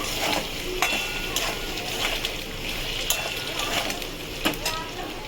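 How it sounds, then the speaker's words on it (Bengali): Turmeric, cumin and coriander powders being stirred in a frying pan, with a steady sizzle and a few sharp spoon scrapes and clicks against the pan, close and continuous, with no words spoken. "এটাকে নাড়াচাড়া করবো।"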